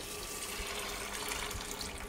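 Water pours in a steady, continuous hissing stream into a pressure cooker holding beans, close by and unbroken from start to finish.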